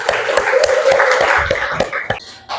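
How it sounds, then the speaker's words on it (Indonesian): Classroom applause as pupils clap for a winning group, dense rapid clapping with sharp taps, moderately loud and close, tapering off toward the end. "Tepuk tangan untuk kelompok 5."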